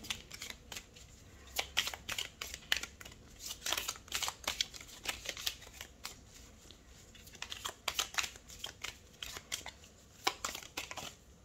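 Tarot cards being shuffled and handled at close range, a run of crisp flicking and snapping bursts in irregular clusters against a quiet room.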